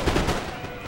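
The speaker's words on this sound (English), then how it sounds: "Now the French guy was able to shoot." Musket volleys in the video game Napoleon Total War, a dense burst of overlapping shots with a sharp crackle at the start that fades into a rolling rumble of gunfire, heard briefly with faint talk underneath.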